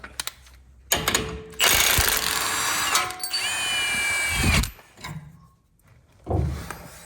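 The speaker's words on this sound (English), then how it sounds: "I need to remove the bolt securing the track bar to the axle, and for that I'll be using a 21mm socket" Power tool spinning a 21mm socket to remove the track bar bolt from a vehicle axle, in loud bursts with a rising whine, stopping and restarting several times, then quieter clanks near the end.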